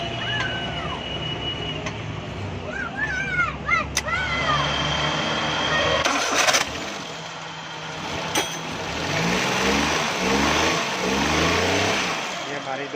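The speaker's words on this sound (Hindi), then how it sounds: "अब गाड़ी को हम स्टार्ट करेंगे।" A Suzuki Mehran car's engine, just back together after a gear repair, turns over with a whirring crank and catches into a rising rev and running hum, set against background noise and a few faint voices.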